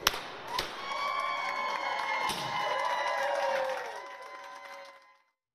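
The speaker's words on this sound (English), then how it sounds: "Patrick Pearl was greeted with confetti and applause as he arrived for his night shift." Co-workers, family and friends cheer and applaud a registered nurse arriving for his night shift at a medical center, with confetti: a sharp pop, then steady crowd clapping and whoops, fading out near the end.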